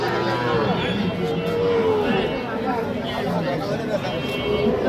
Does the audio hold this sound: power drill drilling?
no